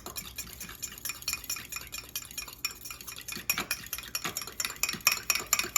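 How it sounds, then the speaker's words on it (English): Fork whisking a cracked egg in a cup, a rapid series of light scraping clinks against the cup's sides, close and steady, growing livelier toward the end, with no talking. "I'm going to whisk the egg with a fork to break it up"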